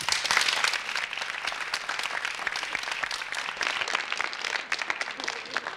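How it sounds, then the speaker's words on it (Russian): Studio audience applause on a Soviet-era television quiz game show, a dense steady wash of many hands clapping at full strength throughout, with no voices over it. "Аплодисмент."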